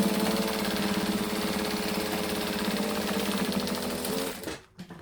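A sewing machine top stitches fabric in one steady, loud, rapid humming run that stops abruptly near the end.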